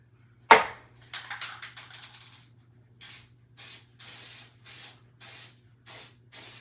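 Sealer sprays from an aerosol can in a row of short hissing bursts, close and clear, after an initial knock and a longer uneven spray, with a steady low hum underneath.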